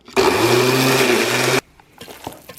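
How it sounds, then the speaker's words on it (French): A mincer grinds chicken livers and bacon cubes in a loud, steady whirring burst of about one and a half seconds, then cuts off to a few soft clatters. "Je hache de la même façon les 2/3 des foies, ainsi que les cubes de lard."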